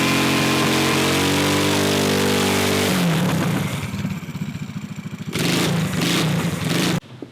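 A minibike's small engine revs hard and loud during a burnout, a steady high whine dropping into a choppy, sputtering drone, cutting out briefly before roaring again and stopping abruptly.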